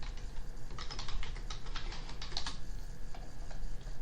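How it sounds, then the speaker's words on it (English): Typing on a computer keyboard comes through as a quick run of light, close key clicks over a low steady hum, with irregular bursts and short pauses and no speech. "You hear me typing, so my apologies, because I am multitasking."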